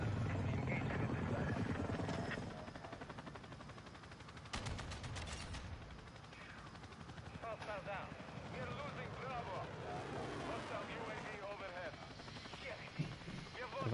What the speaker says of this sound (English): Then I got a chopper gunner,